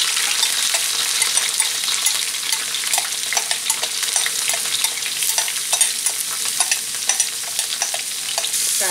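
Chicken thigh pieces and carrots fry in a hot pan for fried rice, a steady loud sizzle with frequent stirring scrapes and crackles throughout, no voices.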